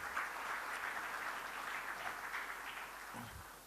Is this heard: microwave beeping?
no